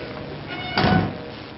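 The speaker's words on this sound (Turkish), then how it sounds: "Kapıyı kapatar mısın?" A door shuts with a single dull thunk in the horror game Outlast, a fairly loud close impact over steady background hum.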